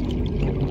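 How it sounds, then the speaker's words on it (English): Gulping drink effect in the underwater survival game Subnautica, a short watery pouring, glugging sound heard alone and fairly loud. "Hang on, let's drink some water."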